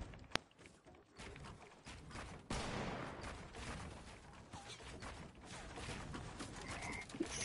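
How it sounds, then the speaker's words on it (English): Faint, distant gunfire crackles from behind in Fortnite, scattered sharp reports and a sustained rattle mixed with movement and game ambience, quiet throughout with no talking. "I'm getting shot from behind"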